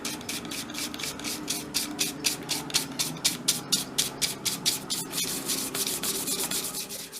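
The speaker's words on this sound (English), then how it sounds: "Once you've sanded the piece, don't forget to use a soft brush to remove the sanding dust." Wooden panelling pieces for a miniature room box are sanded by hand in quick, regular back-and-forth rasping strokes, close and fairly loud, with the rhythm loosening into a steadier scrub toward the end and no talk.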